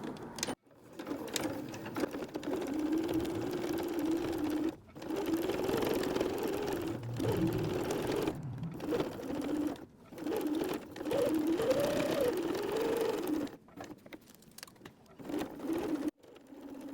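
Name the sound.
sewing machine stitching plush llama fabric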